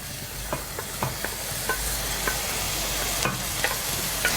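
Vegetables sizzling steadily in a pot of hot oil, a dense constant frying hiss close by, broken up by a few light clicks and taps of stirring, with no talking.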